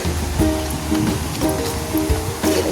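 A mountain village river flows in a loud, continuous wash of rushing water, close by. Faint tonal sounds briefly rise above it.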